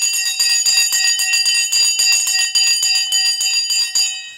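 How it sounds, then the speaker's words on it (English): An electronic bell rings continuously with rapid, bright metallic repeated strikes for several seconds, loud and close, then cuts off abruptly. "Get ready to ring the bell."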